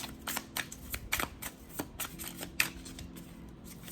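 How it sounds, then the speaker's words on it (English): Tarot cards are side shuffled close by, a quick run of crisp riffling slaps and flicks in uneven bursts, heard alone without talk. "Now you guys are seeing me side shuffle."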